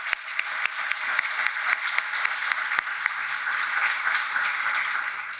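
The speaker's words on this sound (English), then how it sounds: "Please join me in applauding Stephanie Pruitt for her extraordinary reading" An audience at the New York Botanical Garden claps warmly after a poetry reading, a steady dense patter of many hands with scattered sharper claps near the front.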